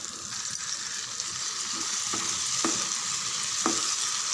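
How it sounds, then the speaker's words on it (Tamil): Ground tomato paste and potatoes sizzle steadily in a pan, with a few sharp ladle scrapes and taps while being stirred, and no voices. "நல்லா ஒரு மூணு நிமிஷம் கலந்து விடுங்க"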